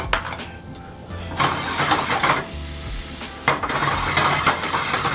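Garlic sizzling in a pan over low heat at the start of a calamari salad, a steady close frying hiss with bursts of stirring and light clinks of utensil against pan.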